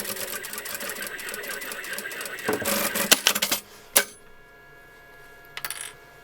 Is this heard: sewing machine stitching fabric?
yes